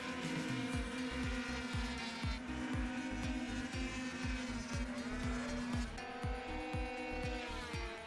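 High-pitched 50cc and 70cc racing scooter engines whine and buzz as they speed past one after another on the Magny-Cours track, loud and continuous, with tyre noise.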